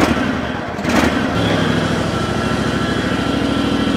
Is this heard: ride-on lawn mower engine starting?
yes